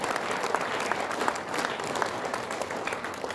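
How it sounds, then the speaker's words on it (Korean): Seminar audience of around three hundred people gives a sustained round of applause, a dense, even roar of many hands filling the hall from start to finish. "우리 모두에게 뜨거운 박수를 한번 보내주시기 바랍니다"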